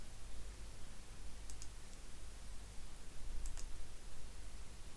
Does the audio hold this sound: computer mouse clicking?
yes